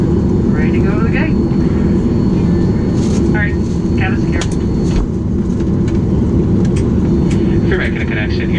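A Southwest Airlines jet airliner taxiing at Houston Hobby, heard from inside the cabin as a loud, steady engine drone and rumble throughout, with a voice talking over it.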